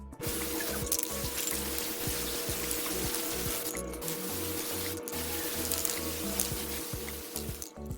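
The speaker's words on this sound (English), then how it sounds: "I'm going to spray paint it gold" An aerosol can sprays gold paint onto a Dollar Tree frame in a steady, close, continuous hiss that lasts several seconds with only brief pauses, over a faint rhythmic background beat.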